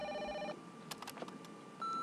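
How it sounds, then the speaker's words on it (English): A phone rings in the video game No More Heroes Desperate Struggle, giving short electronic tonal bursts at the start and end with faint clicks between, quiet and without talk. "Since when does a phone ring for twice and then the message comes on?"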